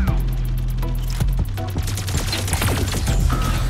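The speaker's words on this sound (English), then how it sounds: "Wow, chain guns." Chain guns fire in the mech combat game Mech Arena, a dense, continuous rattling barrage that stays loud and close throughout, with low rumbling explosions underneath.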